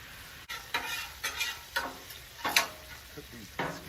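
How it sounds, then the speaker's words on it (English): Bacon frying on a Blackstone flat-top griddle with two burners set to medium, giving a steady crackling sizzle with louder pops and bursts at irregular intervals, close and without talk. "I got these 2 left burners set on medium, just getting this bacon cooked and ready to go"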